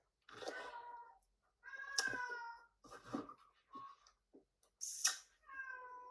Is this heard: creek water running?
no